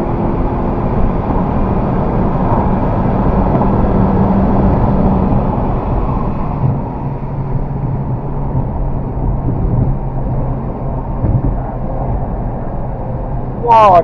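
A 2019 Honda Civic Si laps Pocono Raceway, heard from inside as a loud, continuous engine and road drone that drops in pitch about halfway through, with no talk.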